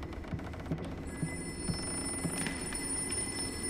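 A telephone rings in the 2023 horror game Layers of Fear, with a steady, repeating electronic ring pulsing at an even rhythm. No one speaks over it.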